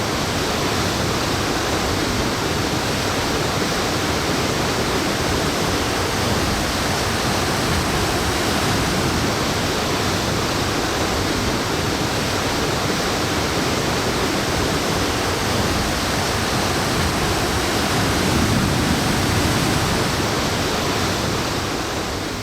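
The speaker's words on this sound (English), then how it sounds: "It was a dramatic sight of water in all shapes and sizes plunging down, accompanied by the roar that overwhelmed all other sound." Vainia Falls, a waterfall with water plunging down in many streams, gives off a loud, unbroken roar. The close, steady rush drowns out every other sound and has no voices.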